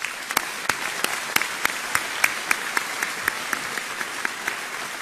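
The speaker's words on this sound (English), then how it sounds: "give a warm round of applause to all the families who have supported our" Graduation ceremony audience applauding the graduates' families, a dense, steady round of many hands clapping that fills the hall at full volume throughout, with no speech over it.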